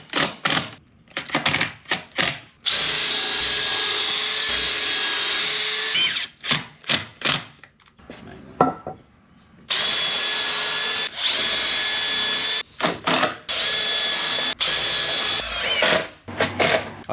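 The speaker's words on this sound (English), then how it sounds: "I always dreamed of the day I'd have 2 drills so I didn't have to swap bits out." A power drill drives screws into a custom fireplace frame, whirring in repeated close, loud bursts of a few seconds each with short pauses between, and one longer quiet gap midway.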